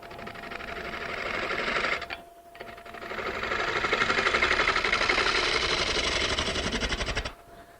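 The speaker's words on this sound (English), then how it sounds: "now I'm going to switch back to my bowl gouge, or my fingernail gouge" Wood turning on a lathe with a bowl gouge while shaping a furniture part, a steady rough scraping and whirring cut that pauses briefly then runs on loud and close for several seconds.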